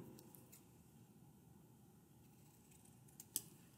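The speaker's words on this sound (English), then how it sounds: "I'm going to take the other half and I'm going to cut that one into half again" Scissors cut a folded sheet of paper in half, with a few faint, brief snips over a quiet room hum and one sharper closing snip near the end, no voices.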